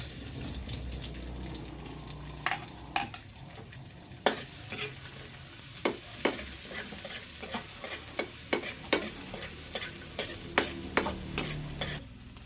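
Onion and ginger sautéing in a pan, a steady close sizzle broken by frequent sharp clicks and scrapes of a spatula stirring at an irregular pace.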